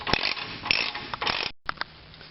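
A ratchet clicks in short bursts as bolts on a Toyota pickup's transfer case crossmember are tightened, close and fairly loud, with a brief pause before a few final clicks.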